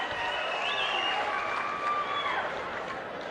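Audience applause at an officials' review meeting held by Chief Minister Chandrababu Naidu in Alur constituency, a dense, steady clapping that holds for about three seconds with a faint tone running beneath it.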